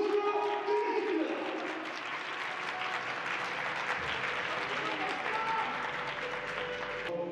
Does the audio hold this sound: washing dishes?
no